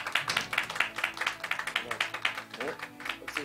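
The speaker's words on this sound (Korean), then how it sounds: "박수 주시기 바랍니다." A church congregation claps together in steady applause, the dense patter of many hands filling the sanctuary at a moderate level for the whole stretch.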